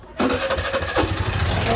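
A Sonalika tractor's diesel engine catches after a short quiet moment and settles into a loud, steady, throbbing run with a brief rise in revs, close by and without talking.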